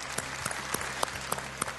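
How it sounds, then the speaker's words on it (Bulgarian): Studio audience clapping on a Bulgarian TV quiz show, a burst of applause with sharp individual claps standing out in an uneven rhythm, close and brief with no speech. "Аплодисменти и за следващият опонент."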